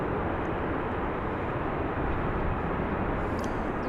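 A passenger airliner on flight 1750 from Cancun, Mexico at Dallas/Fort Worth International Airport gives a steady, heavy, broadband jet engine roar that holds at an even level throughout.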